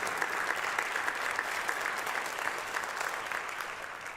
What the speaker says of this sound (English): give them another round of applause for all the work they've done